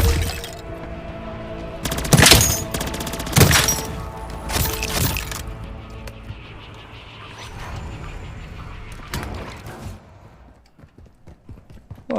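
Gunfire in a first-person shooter game comes in several sharp, loud bursts in the first half, followed by quieter background game sounds and a few scattered cracks near the end.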